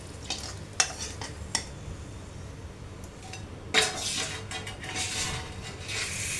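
Four large dried red chillies lifted out of hot frying oil in a pan, with soft sizzling under a few sharp utensil clinks and scrapes against the pan, no talk.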